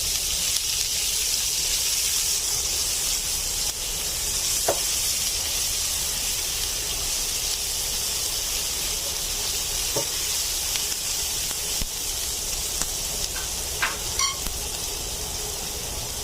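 Two chopped onions fry in a pan, a steady loud sizzle and hiss with occasional faint stirring clicks.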